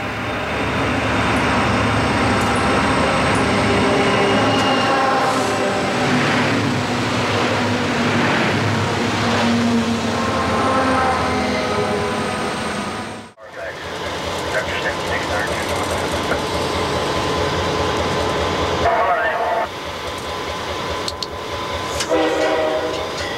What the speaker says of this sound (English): we've got another coal train to let by first.